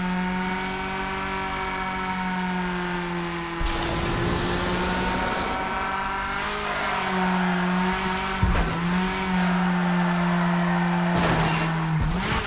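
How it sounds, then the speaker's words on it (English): A car drifts in the racing video game Wreckreation: a loud, steady engine drone holds for several seconds, broken by bursts of screeching tires and revving as it slides through turns, with no talk. "The drifts feel really good"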